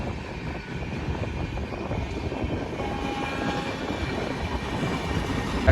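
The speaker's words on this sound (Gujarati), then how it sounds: "આવી ટ્રેન" A train passes beside rice paddy fields, a steady rumbling roar from fairly close that holds at an even level throughout.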